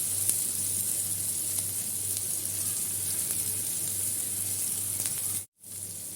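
Beef shami kebabs frying in hot oil in a pan give off a steady, moderately loud sizzle with a low hum beneath it, broken by a brief gap near the end.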